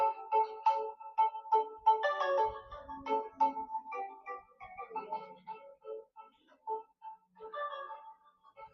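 A mobile phone ringtone plays a repeating electronic melody in short pulsing notes, moderately loud and clear against a quiet room, with no one talking over it.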